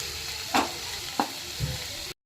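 Red amaranth greens frying in a pan under a soft continuous sizzle, with three distinct scraping stir strokes spaced about half a second apart, close by.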